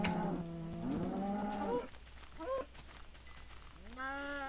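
Minecraft cows moo in a series of long, drawn-out calls, one low moo at the start and further rising bellows near the end, clear and close over quiet game ambience.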